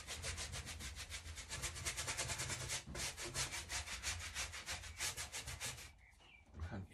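Clear wax rubbed onto chalk-painted furniture by hand, a steady close scrubbing and rasping that runs back and forth without pause and fades briefly near the end.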